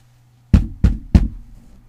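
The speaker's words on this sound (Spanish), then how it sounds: "Un leve toquido se escuchó en la puerta." Three quick, soft knocks on a door, evenly spaced and close, each a dull thud that fades fast, then stillness.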